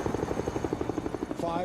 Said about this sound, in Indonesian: Mereka langsung dievakuasi dengan pengawalan 2 helikopter.